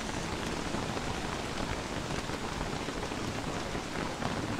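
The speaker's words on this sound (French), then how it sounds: "C'est putain de pluie là." Steady rain falls in the video game Don't Starve Together, an even, dense patter of drops that stays constant and fills the whole scene without voices.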